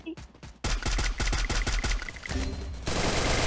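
Rapid bursts of Free Fire video game gunfire crackle loudly in quick succession, with a few single shots at the start and sustained rattling afterward.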